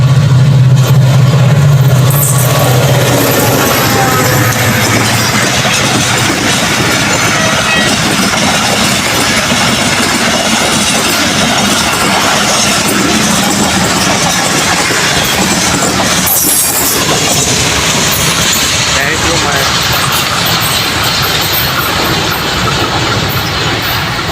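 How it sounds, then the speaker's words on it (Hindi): The Karachi Express of Pakistan Railways passes through Multan station, a loud continuous rumble of engine and rolling wagons lasting throughout, close and dense with no talk heard. "हवा कराची एक्सप्रेस मुल्तान से गुजरते हुए"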